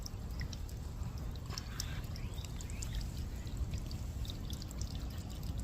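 A garden water fountain trickles and pours steadily, keeping drinking water fresh for animals, a continuous close splashing flow with faint outdoor sounds and no talk.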